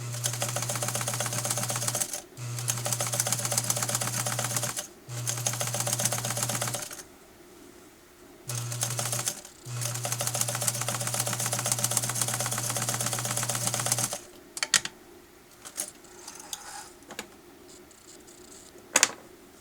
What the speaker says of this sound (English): I'm gonna stitch that curve again.